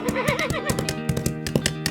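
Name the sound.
horse neighing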